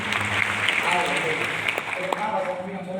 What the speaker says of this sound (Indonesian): Jadi boleh berikan tepuk tangan yang paling meriah lagi.